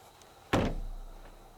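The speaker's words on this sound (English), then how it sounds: "So we would have opened this door and probably walked out." A door thuds once with a sharp, close knock and then a short, fading resonance, against a quiet background.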